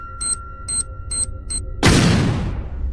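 A bomb blows up in Free Fire, following four short evenly spaced electronic beeps with a sudden loud, booming blast that rolls off over about a second.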